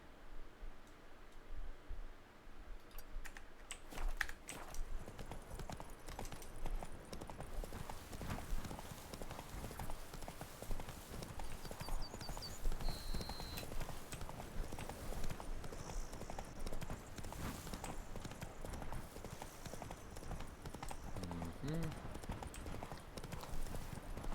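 Horse galloping in The Witcher 3, a steady rapid clip-clop of hooves running throughout, close and prominent, with quieter game ambience and no talk over it.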